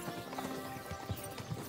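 Horse hooves clip-clop in a few uneven thuds close by, set against a steady background bed of ambience in a medieval-setting game.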